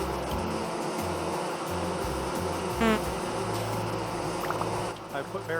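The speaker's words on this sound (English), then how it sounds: "Just a sound of the bee stings." Bees buzz in a dense, continuous drone in a video game, with a faint sting-like rasp partway through. The noise is steady and fills the background under the game's ambient hum.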